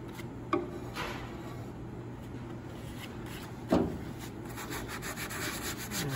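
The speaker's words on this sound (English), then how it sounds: "So I'm just going to use a putty knife." A putty knife scrapes wet glue off a wooden blanket chest in steady, close rubbing strokes, broken by two sharp knocks of the blade against the wood.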